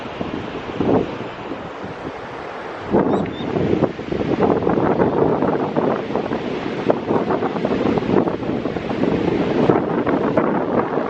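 Ocean surf washes onto the shore in a broad, rushing roar, mixed with heavy wind buffeting the microphone.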